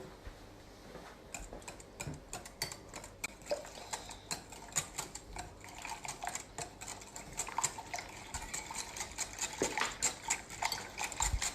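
Wire whisk clicking and tapping against a mixing bowl while beating egg and mashed potato into potato roll dough, a steady run of quick, close metallic ticks throughout.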